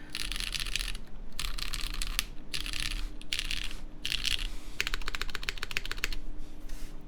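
Bursts of rapid clacking keystrokes on a Sensy Lab Smoke 65% keyboard during a typing test, close and steady, pausing briefly between runs with a faint hum underneath.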